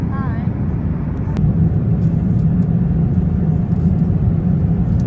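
Steady, loud broadband rumble of an Airbus A350-1000 airliner cabin in flight, a constant drone that fills the whole stretch.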